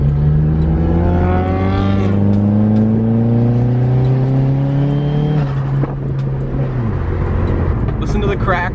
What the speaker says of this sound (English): his exhaust crackles like crazy now